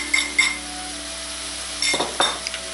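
Homemade spicy sauce tipped into braising aubergine in a hot pan, with a couple of quick clinks and scrapes of utensil on pan early, then a louder sizzling splash near the end, close and without talk.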